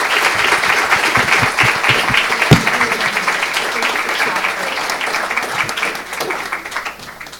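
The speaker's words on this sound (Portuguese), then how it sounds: "Uma salva de palmas para o nosso amigo." An audience at a university architecture anniversary event bursts into applause for a guest, a loud, dense round of clapping that carries on steadily and begins to thin toward the end, with a few voices faintly mixed in.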